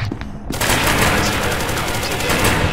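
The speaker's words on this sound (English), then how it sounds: "Oh, you shot me!" Rapid, loud automatic gunfire from the video game SCP Secret Laboratory erupts after a brief pause and continues as a dense, sustained fusillade close up.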